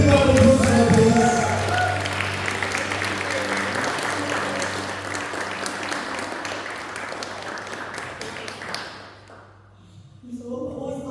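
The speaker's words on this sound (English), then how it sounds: "Let's have a big round of applause for her, please." A concert audience in London applauds loudly and steadily for about nine seconds, then the clapping dies away. A low sustained tone hums underneath, and a voice speaks briefly at the end.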